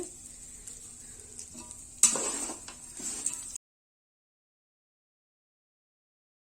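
A spoon scrapes and stirs rice into tempering in a pan over faint sizzling, louder scraping for a second or so, then silence.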